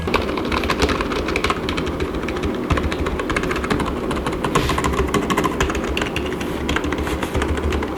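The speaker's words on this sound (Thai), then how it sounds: "เวลาเรากดปุ่มเส ียงก็ค่อนข้างเบา" Rapid, soft, muffled tapping of rubber keys on an Oker KB-318 keyboard, pressed continuously in an irregular rhythm with a low hum underneath.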